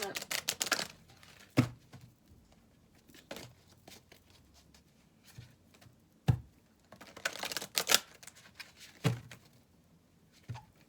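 Oracle cards are shuffled by hand in a few separate bursts of quick, papery flicking and riffling, each a second or two long, close and fairly soft, with quiet gaps between them.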